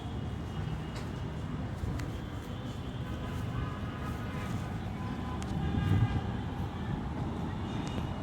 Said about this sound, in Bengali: মেট্রো চলে যাচ্ছে